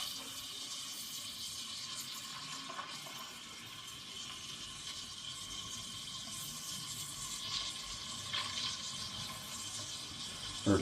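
Milk spun into a tornado-like vortex with a frother while making coffee con leche, heard as a steady, continuous hiss and whir at moderate volume with no voices.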